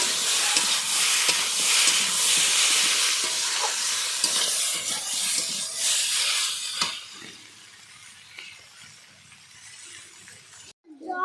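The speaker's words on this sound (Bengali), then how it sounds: "এবারে জল দেবো ভালো করে আমার কষানো হয়ে গেছে" Sautéed kohlrabi curry sizzling and hissing loudly in a pan with steady scraping of a spatula, then dropping to a quieter simmer after a few seconds, with a brief clatter at the very end.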